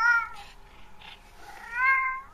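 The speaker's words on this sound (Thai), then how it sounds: "แมวข้างบ้านร้องออกมา" A neighbour's cat meows loudly and close by, with two drawn-out calls separated by a quieter mewing between them.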